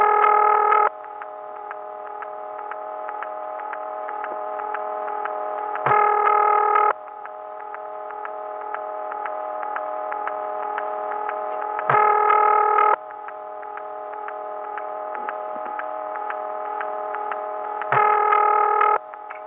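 A 1975 telephone exchange ringing machine from Office 235 in Wilson, North Carolina, sends a steady buzzing ring signal with harsh, distorted harmonics. Three louder bursts come at regular intervals of about six seconds, with a quieter continuous tone between them.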